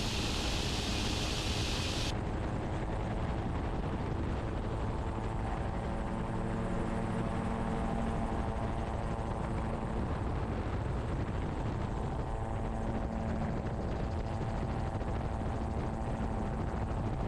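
Gyroplane rotor spooling up for takeoff, a steady broad engine and rotor roar heard from inside the cockpit, constant and loud throughout with a faint low hum underneath and no speech.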